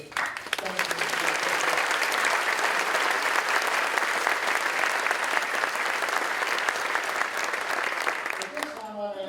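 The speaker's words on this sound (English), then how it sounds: "our wonderful teachers deserve another round of applause" At an awards luncheon, the audience gives teachers a sustained round of applause. Dense clapping fills the room at an even level for several seconds, then thins out at the end as a voice comes back.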